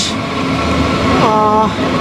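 A train at a railway station in Stuttgart, Germany, rumbles close and steadily, with a short squeal or horn-like tonal whine rising partway through over the constant station noise.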